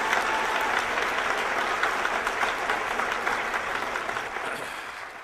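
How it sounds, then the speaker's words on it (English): A large audience applauds Ron Paul with sustained, loud clapping that holds steady and then fades slightly at the end. "Another round of applause for Ron."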